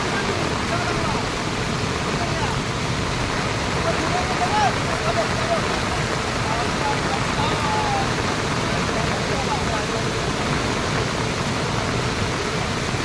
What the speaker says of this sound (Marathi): पाऊस पण बघा किती पडतो जोरदार